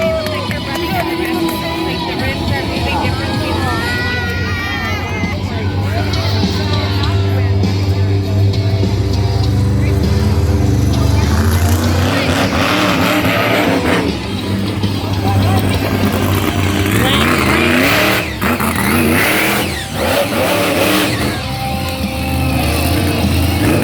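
Monster truck engines at an all-star arena show make a loud, continuous rumble and roar, with revving swells, under a cheering crowd and an announcer talking.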